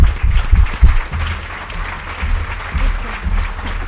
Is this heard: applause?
yes